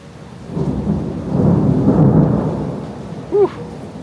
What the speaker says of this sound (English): There's the thunder showers.